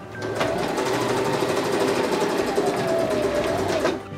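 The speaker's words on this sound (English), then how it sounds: "Started stitching up my panels." A sewing machine stitches quilt panels for a hexagon throw, running continuously with a fast, even mechanical chatter for about four seconds before stopping.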